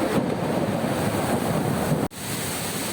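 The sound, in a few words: rushing river current at Mandala Falls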